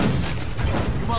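Gunfire in the video game Battle Los Angeles, a brief burst of dense, booming shots with a voice talking over the top.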